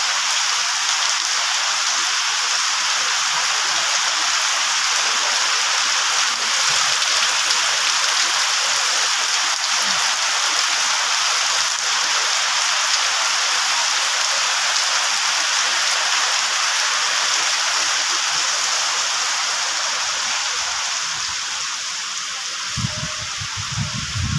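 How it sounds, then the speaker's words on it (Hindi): Heavy rain falls in the evening darkness, a loud, unbroken hiss of pouring water that stays constant throughout, with a brief thumping near the end. "देख केते जोर वर्षा"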